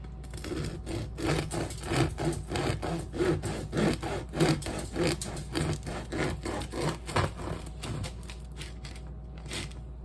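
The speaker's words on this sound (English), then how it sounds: "serrated knives are great for cutting bread because the knife does the work" A serrated knife saws crisscross diagonal cuts into a loaf for cheesy pull-apart bread, giving rapid, repeated close rasping strokes with a crusty crunch, steady throughout with no talking.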